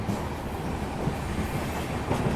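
Train rolling toward Saraigarh railway station on a rural line in Bihar, a steady rumbling clatter of wheels on rails with faint clicks, continuous and close, no voices.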